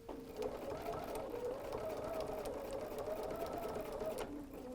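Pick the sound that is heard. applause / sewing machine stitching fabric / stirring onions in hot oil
sewing machine stitching fabric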